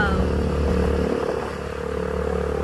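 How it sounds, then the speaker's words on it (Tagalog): A motorcycle engine runs steadily at close range with a low droning hum, clattering and a faint whir, holding a constant loud level while the bike is being ridden. "Ay halika tayo sakay na sa motor."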